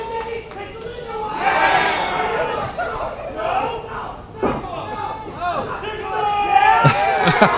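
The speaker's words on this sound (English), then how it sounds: "The crowd's telling him to go for it." A crowd at an outdoor wrestling event at a ballpark field in Lexington, 2023, cheers and shouts in rising waves, with mixed voices and a few thuds. Some yells stand out near the end.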